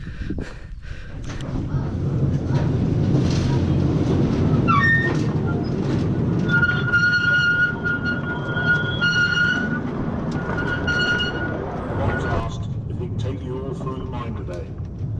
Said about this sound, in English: let's go on a mine train round Morwellham Quay